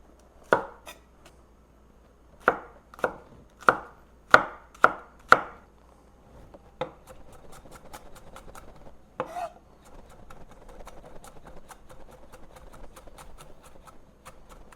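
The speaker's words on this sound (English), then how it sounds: "Trim slightly thin the scallions, separating the whites from the greens." Knife chopping scallions on a cutting board, separating whites from greens: a quick run of sharp, evenly spaced chops, then a second burst, followed by softer scattered knife taps and light board scraping, close and unaccompanied by talk.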